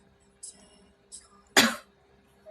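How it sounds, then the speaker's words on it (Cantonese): A woman recovering from illness gives a single sharp, close cough after two brief soft throat sounds, alone in a quiet room. "係唔知點解有少少咳啦"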